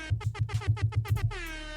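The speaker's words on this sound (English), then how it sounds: "We're gonna give a little air horn to you, sir." An air horn sound effect blasts in a rapid series of about eight loud, evenly spaced honks, then finishes with one longer sustained blare that fades out.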